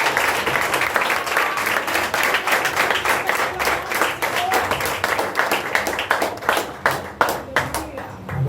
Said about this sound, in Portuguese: Quando o pastor está subindo, você pode fervorosamente aplaudir ao nome do Senhor